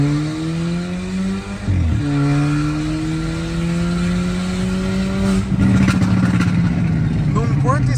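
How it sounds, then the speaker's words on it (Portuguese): A remapped VW Golf TSI fitted with a downpipe revs loudly, its engine tone rising steadily and then dropping, followed by a brief burst of crackling exhaust pops near the end. "Fora a pipocada toda com o difusor aberto."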